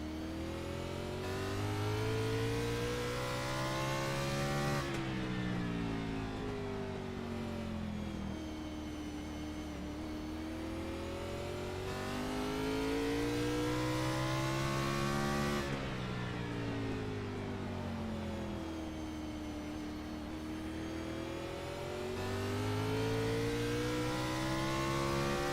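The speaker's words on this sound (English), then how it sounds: "Let's sit with Davey Hazard now as we sit shotgun inside of his car" An onboard race car engine at Martinsville roars steadily inside the cabin, rising and falling through repeated cycles of accelerating whine and lift-off, loud and continuous with no talk.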